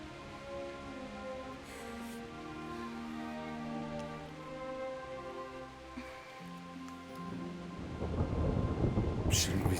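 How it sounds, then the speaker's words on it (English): Thunderstorm in the video game Kingdom Come: Deliverance, with steady rain and low rumbling thunder under a sustained tonal music-like bed, swelling to a louder rain burst near the end. "Not afraid of thunderstorms, are you?"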